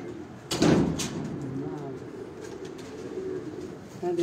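Racing pigeons coo at a loft as birds returning home are stamped, with a low, steady murmur and a louder burst near the start, under people talking.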